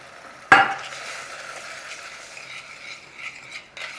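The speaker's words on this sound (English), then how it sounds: "we're going to give it a good stirring through" A spoon scrapes and stirs soup with a splash of milk in a saucepan, opening with one sharp knock against the pan, then a steady soft scraping and sloshing up close, with no talk.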